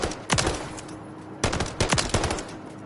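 SMG firing short bursts in Modern Warfare 3, a quick rattling volley near the start, a pause, then several more rapid bursts close and loud over light game background noise.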